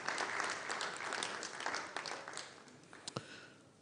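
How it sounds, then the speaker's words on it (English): Audience applause for Ambassador Cabral at a diplomatic launch event, a steady dense clapping that tapers off toward the end, with a couple of sharper isolated claps near the close. "I think he deserves another round of applause"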